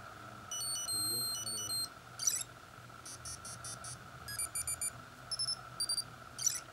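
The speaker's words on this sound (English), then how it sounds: "You also get some alarm tones and a clock." An iPod Touch alarm tone: a series of electronic chiptune-style beeps and short melodic tone bursts play in irregular groups over a low hum, faint and thin.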